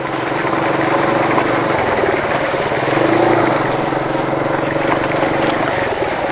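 A motorbike rides between hills along the road through Khadim Nagar tea garden in Sylhet. Its engine drones steadily and fairly loud, with a slight swell midway and no talk over it.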